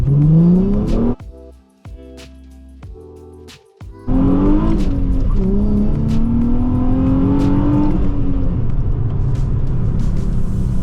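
A loud Nissan 350Z engine revs and rumbles with a deep, raspy exhaust tone through a muffler delete, rising and settling, interrupted briefly by a quieter stretch before roaring on.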